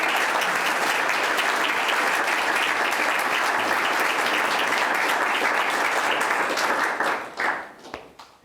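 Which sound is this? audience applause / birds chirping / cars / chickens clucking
audience applause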